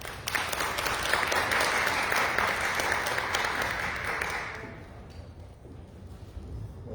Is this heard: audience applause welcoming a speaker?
yes